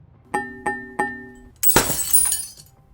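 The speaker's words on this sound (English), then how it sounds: "the first pane of glass fell to the floor, shattering" A glass window pane drops to the floor and shatters in a loud crash with scattering tinkling shards, preceded by three ringing glassy knocks at even intervals.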